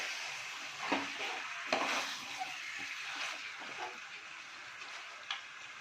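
Chicken curry with ginger and garlic being stirred in a pan, a soft sizzle running throughout with a few light scrapes and clinks of a spoon against the pan, quiet and close with no talking.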